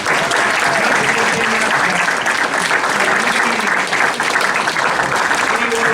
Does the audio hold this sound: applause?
yes